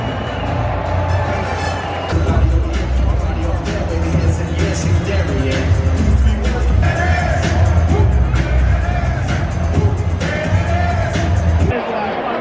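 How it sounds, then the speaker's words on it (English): A stadium crowd at a Tampa Bay Buccaneers football game against the Minnesota Vikings, a loud roar of cheering and whooping from a large audience, with talk mixed into the continuous din. "And the crowd goes wild."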